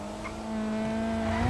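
An old car's engine holds a steady, droning hum at close range, rising slightly in pitch and loudness toward the end, with no talk over it.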